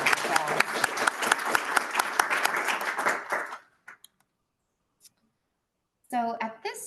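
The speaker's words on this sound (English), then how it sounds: "So you can give all these organizations a round of applause." A crowd at an annual meeting claps for a few seconds, a close, busy patter that stops abruptly, followed by near silence with a couple of small clicks before a voice begins speaking.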